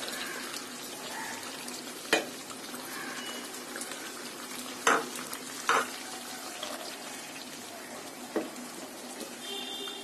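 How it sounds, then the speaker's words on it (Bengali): Spice masala frying with a splash of water in a pan for a cauliflower korma, a steady soft sizzle with a few sharp clinks of a spoon against the pan, no voices. "সবকিছু অল্প একটু পানি দিয়ে আমি মশলাগুলি কষিয়ে নেব"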